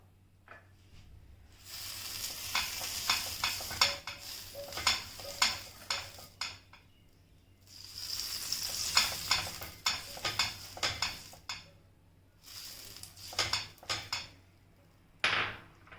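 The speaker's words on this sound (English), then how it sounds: "Let's grease the tawa with a bit melted butter." Utensil scraping and clattering on a tawa greased with melted butter while making an egg pizza, with repeated metallic taps and scrapes in bursts and a faint sizzle underneath, fairly quiet and without talk.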